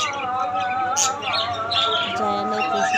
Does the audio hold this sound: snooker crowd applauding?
no